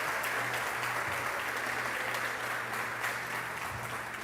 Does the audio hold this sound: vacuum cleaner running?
no